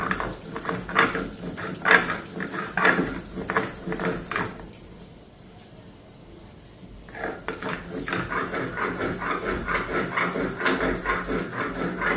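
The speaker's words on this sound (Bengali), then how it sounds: "এটা দিয়ে একটু বাটা দিয়ে নেবো" Packaged mustard seeds are ground by hand on a flat stone slab with a stone roller, giving rhythmic close scraping and knocking strokes that stop briefly midway and then resume steadily.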